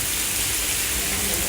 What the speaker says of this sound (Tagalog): Yan guys, ulan yan.